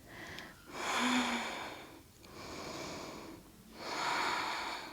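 A yoga practitioner breathes slowly during a seated twist pose in a detox yoga class, with three long, close, nasal breaths in a steady rhythm and quiet pauses between them.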